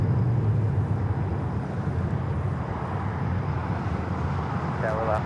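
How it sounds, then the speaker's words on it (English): United Airlines 757-300 jet taking off from Los Angeles airport, a broad steady rumble and roar heard from a distance, with faint voices talking over it. "This is United Airlines 1843 taking off to Washington Dulles on the"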